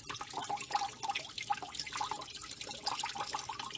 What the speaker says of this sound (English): That's water draining through the weep holes with pebbles around them.